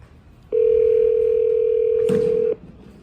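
A steady telephone dial tone sounds for about two seconds, then cuts off abruptly; no voices are heard.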